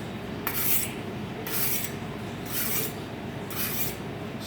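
Chef's knife drawn along a sharpening stone at a 20-degree angle, four steady, even rasping strokes close up, each about a second long with short pauses between.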